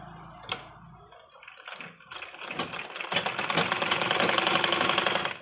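A sewing machine stitching lace onto the back neck of a blouse starts with a few slow clicks and then settles into a fast, steady, rattling stitching run that grows louder.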